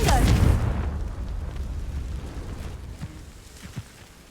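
A Confringo fire spell in Hogwarts Legacy bursting against dry vines, a deep loud boom at the start that rumbles and fades over several seconds, with a couple of small pops near the end.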